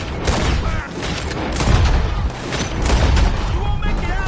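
Gunfire during a stagecoach robbery in Red Dead Redemption 2, a continuous loud barrage of booming shots and blasts mixed with shouting voices, dense and chaotic throughout.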